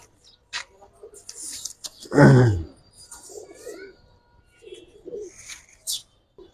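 A loud, close pigeon coo rolls out in one deep burst among Giribaz and colored pigeons in a loft, with softer rustling, faint chirps and scattered movement around it.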